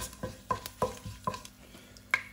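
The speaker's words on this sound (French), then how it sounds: "J'ai fait légèrement dorer l'ensemble pendant 20 secondes." Bay leaves and star anise fry in a pan for a biryani with eggs, with a soft sizzle under several sharp utensil taps and stirring clicks against the pan.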